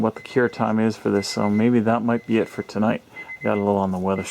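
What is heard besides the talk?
No distinct noise like a dog, phone or traffic.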